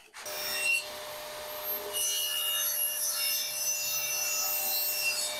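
A circular saw cuts wood for a French cleat router holder, with a loud, steady motor whine and rasping cut noise running nearly the whole time. The cut grows brighter and harsher partway through.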